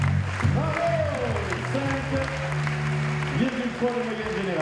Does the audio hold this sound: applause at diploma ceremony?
yes